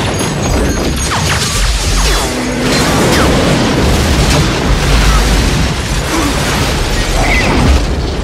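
Weapons firing and explosions in a stop-motion Godzilla versus Gamera battle, a loud, dense, continuous barrage of booms, crashes and bursts with no pause.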